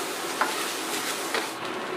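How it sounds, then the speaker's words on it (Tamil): Onions sizzling in a hot pan, a steady crackling hiss with a couple of brief louder pops. "இந்த வெங்காயம் வதங்கி வரட்டும்"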